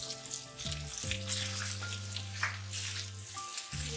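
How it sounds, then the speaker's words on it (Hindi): Chopped green chillies hit hot ghee with fried mutton pieces for namkeen gosht, giving a steady close sizzle and crackle throughout with a low hum underneath and no talking. "गोटियाँ अच्छी सी फ्राई हो गई हैं। अब हम इसके अंदर हरी मिर्चें डाल रहे हैं"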